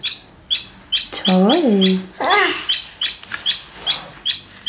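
A toy chick chirps in a steady run of short, high, evenly spaced peeps throughout, loud and close, while a voice speaks briefly over it partway through.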